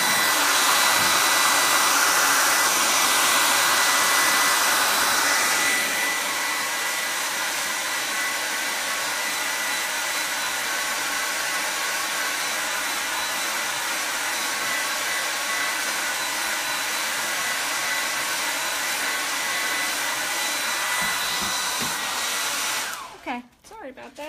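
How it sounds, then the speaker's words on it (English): A hair dryer blows steadily on a chalk paint project, loud and close, with a continuous whooshing roar that eases slightly partway through and cuts off at the end. "let's get the hair dryer on this for a second, so it's going to get a little noisy for just 1 second"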